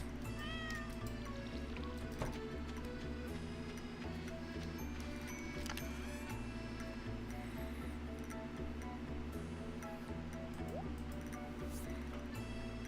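A cat in the Stardew Valley farming game meows several times over steady looping background music and soft ticking game sounds.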